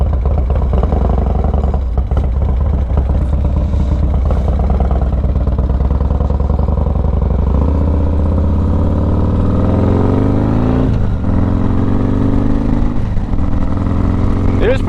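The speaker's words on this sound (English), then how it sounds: "that fucking decel is so good on this bike" A Harley motorcycle engine rumbles loud and close at steady revs, then winds down through a deceleration with falling pitch, with a rider talking over it.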